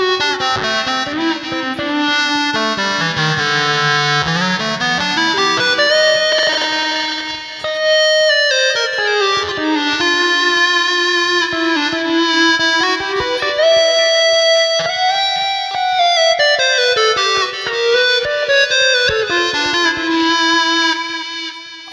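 A synth guitar tone from a Line 6 POD HD500X with plate reverb plays a bright, sustained melodic line with gliding pitch bends and a spacious reverberant tail, loud and alone without any voice.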